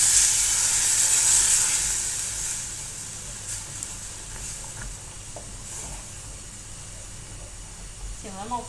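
Cream poured into hot white chocolate in a pan gives a loud hissing sizzle at first, then fades to a softer steady bubbling simmer, with no talk over it.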